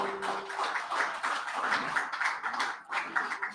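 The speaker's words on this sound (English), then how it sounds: "Another round of applause for Rodney Small" A modest crowd at a media launch applauds a guest, with loose, uneven clapping at close range and a faint tonal hum at the start.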